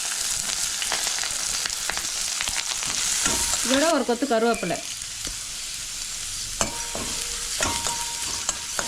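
Chopped onions sizzle steadily in a hot pan with occasional stirring clatter, while a voice speaks briefly partway through.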